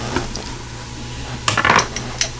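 A metal fork or tongs clatters against an Instant Pot pressure cooker pot while lifting out liver and onions. Soft scraping is followed by a close cluster of sharp clinks and a final tap, with a low hum underneath.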